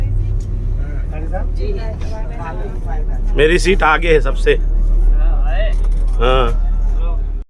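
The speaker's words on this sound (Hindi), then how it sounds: "गाड़ी भी चली" A pilgrim tour vehicle, fully loaded with passengers, drives along with a constant low engine rumble beneath people talking close by inside the cabin.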